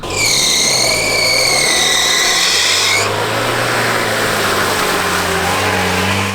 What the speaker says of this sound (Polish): Tak, bardzo źle brzmi ten samochód